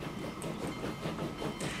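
A train in Transport Fever 2 labors up a steep slope, a steady loud rumble with rhythmic clickety-clack of wheels and faint hissing, continuous throughout.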